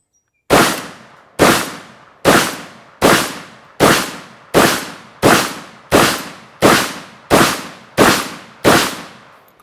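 A Vepr 12 shotgun fires Remington 2 3/4-inch 1-ounce slugs in a steady rapid string of about twelve loud, sharp blasts, each decaying quickly before the next, with no talk.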